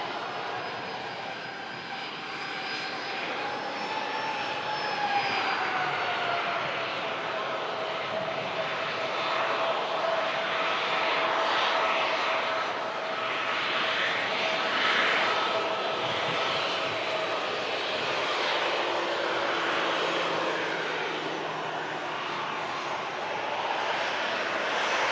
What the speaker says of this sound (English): There's the Norwegian Max on the takeoff roll. Using plenty of the runway,